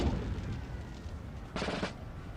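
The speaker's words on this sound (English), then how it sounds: "Damn, some really good explosions there." Artillery explosions in Napoleon: Total War come as a dense, rumbling barrage of booms and crackling blasts, with one sharp, bright burst near the end, close and loud.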